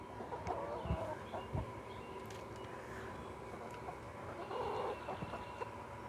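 Chickens in a backyard coop by elderberry plantings cluck and murmur softly at a distance, scattered calls over steady outdoor ambience with a few light knocks and no talk.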